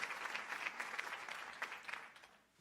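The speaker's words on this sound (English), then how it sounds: "Clap it up, y'all. Clap it up." Brief burst of steady clapping, moderately faint and continuous, tapering off at the end with no talk over it.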